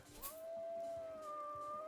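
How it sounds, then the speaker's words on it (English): A wolf in the video game Vintage Story lets out a long, steady howl with a second voice joining partway through, sounding at a moderate distance over quiet ambient background. "Oh, hello, wolf."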